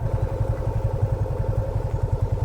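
A motorbike moving downhill over a track of small loose stones, its engine giving off a steady pulsing thrum with a regular beat and light clatter, close and moderately loud, with no talk.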